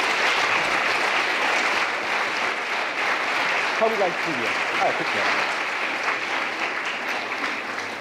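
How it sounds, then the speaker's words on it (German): Dense, steady applause from a seated audience at a lively science-and-maths stage show, filling the full eight seconds at an even level while a voice speaks briefly over it. "Großen Applaus bitte."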